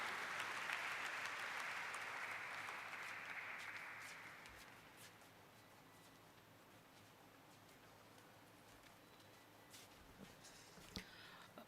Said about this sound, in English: Round of applause, please, for Mr.